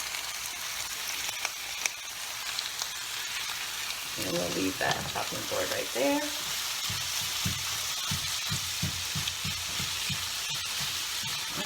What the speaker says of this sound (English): I'm cooking that, kind of chopping it up as I go along, mixing it nicely with the onions.